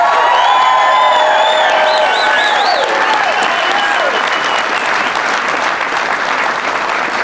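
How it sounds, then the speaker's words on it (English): Loud, dense audience applause at a Louisiana political event, with whoops and shouted cheers over continuous clapping that stays strong throughout. "can we give President Trump a round of applause?"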